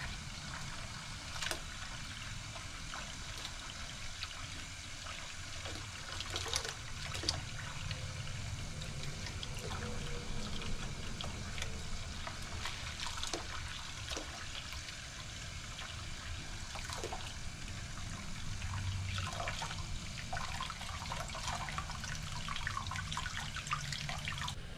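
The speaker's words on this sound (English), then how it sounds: "I just put them in some warm water and I just give them a good wash before I put them on my shelves." Glass jars are washed by hand in warm water at a sink, with a steady wash of running and splashing water and faint clinks throughout, and no voices.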